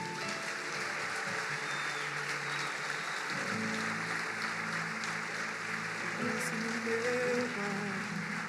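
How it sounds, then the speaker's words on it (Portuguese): A church congregation at a worship service applauds in a steady, dense patter of clapping, fairly faint and continuous throughout. "Levante suas mãos e aplauda bem forte ao Senhor."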